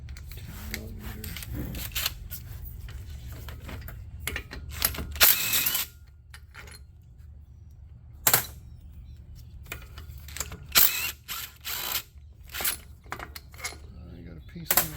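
Wrench work loosening 10 mm starter bolts on a Kohler CH730 engine during teardown, with intermittent metallic clicks and ratcheting bursts spread across the clip, close and moderately loud with quiet gaps between.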